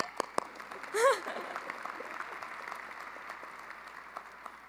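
A fall commencement audience breaks into scattered, fairly faint clapping after a couple of sharp claps and a brief cheer, the applause thinning out over a few seconds.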